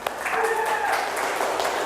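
Classroom applause from a group of students, a steady wash of clapping that fills the short moment at moderate loudness, with faint voices mixed in.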